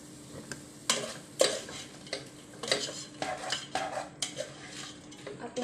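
A utensil scrapes and clanks repeatedly against a cooking pan while pork and vegetables are stirred, the strokes close and irregular over a faint sizzle.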